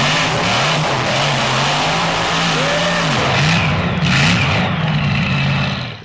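Monster truck Outback Thunda revving loudly as it climbs and parks on top of crushed cars, a steady roaring engine with rising and falling throttle swells, close and dominant throughout.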